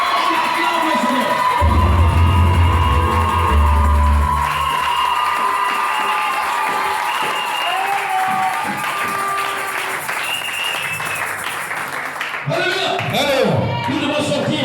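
A church congregation loudly acclaims the Lord during a French-language service with a pastor, a dense wash of cheering, clapping and shouting voices that runs throughout and swells again near the end.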